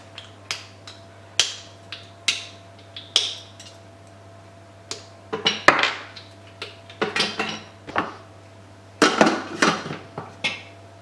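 Pieces of dark chocolate, about 100 g, dropped into a clean Thermomix bowl for a marbled chocolate-pumpkin cake, making scattered sharp clicks and clatters in irregular clusters, close and fairly quiet, with a faint steady hum underneath.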